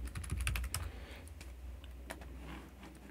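Typing a file name on a computer keyboard in a quiet room: a fast, close cluster of key clicks up front, then scattered fainter taps over a low steady hum.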